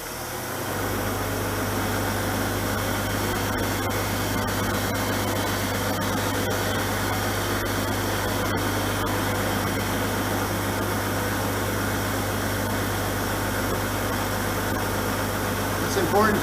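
A wood lathe spins a wooden blank being turned into spinning tops, holding a steady, loud motor hum and whirr throughout with faint tool contact.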